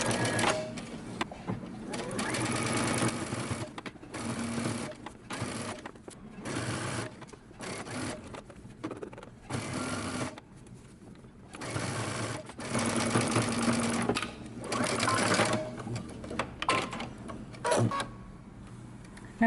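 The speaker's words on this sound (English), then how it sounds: "Now you're going to take it to your machine and you're going to stitch using 5/8 of an inch seam allowance." A sewing machine stitches a romper seam at a 5/8-inch seam allowance, running in repeated bursts of steady mechanical whirring with short pauses between, close and fairly loud.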